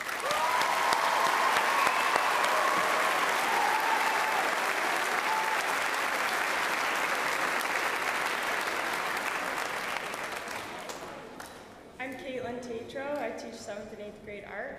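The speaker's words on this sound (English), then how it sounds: "Let's give this group a round of applause." Audience applause at an 8th grade middle school celebration, a sustained round of clapping from a crowd for about eleven seconds that dies away, followed by a voice speaking.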